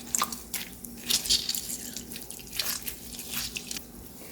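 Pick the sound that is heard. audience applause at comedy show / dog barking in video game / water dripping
water dripping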